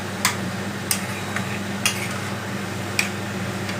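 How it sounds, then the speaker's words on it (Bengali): Fried prawns stirred together with bottle gourd in a pan for Bengali lau chingri: a constant low sizzle broken by four or five sharp spatula clinks against the pan, close and without talk. "দিয়ে এবার আমরা লাউয়ের সাথে চিংড়িটাকে ভালো করে মিশিয়ে দেব।"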